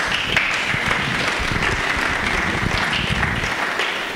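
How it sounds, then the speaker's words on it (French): A church congregation applauds together for Martin, producing dense, loud, sustained clapping that fills the room and fades slightly at the end. "Acclamons pour Martin"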